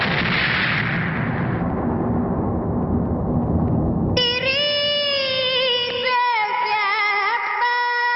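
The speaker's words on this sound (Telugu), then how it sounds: "ఇదేంట్రా గొబ్బెమ్మ పేలింది ఏ గొబ్బెమ్మలో ఏ బాంబు ఉంటుందో ఎవరికి తెలుసండి" A comedic bomb blast goes off in a cow-dung gobbemma decoration as a loud, broad roar that slowly fades over about four seconds. A bright, wavering musical tone then cuts in and carries on to the end.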